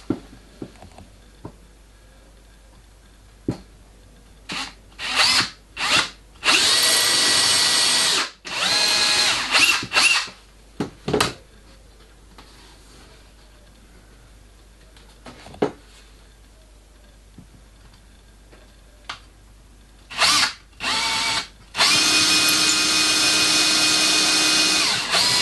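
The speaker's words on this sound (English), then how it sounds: "I can now drill the pilot holes." A power drill boring pilot holes into a wooden cupboard, coming in several short whirring bursts of varying length separated by quiet pauses and small handling clicks, close up with a long final burst.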